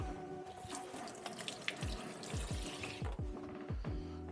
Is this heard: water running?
yes